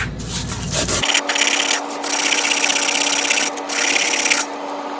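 Rapid scratchy rubbing on a part from a 1953 outboard motor as scratches are worked out, close and loud, coming in short bursts with brief pauses between strokes, no talking.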